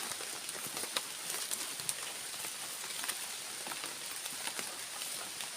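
Rain patters steadily on surfaces outdoors, a dense hiss with scattered sharper drop hits throughout, fairly faint and without any talking.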